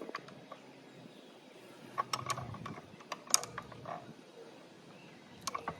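A black walnut cracker is tightened, giving quiet scattered mechanical clicks, ratcheting ticks and small creaks of metal parts, with a few sharper snaps standing out over a faint background.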